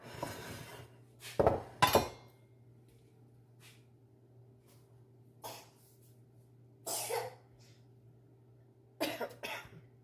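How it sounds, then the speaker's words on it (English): A few short coughs break out at intervals, mixed with clinks of pots and cutlery over a low steady hum. "We're all coughing."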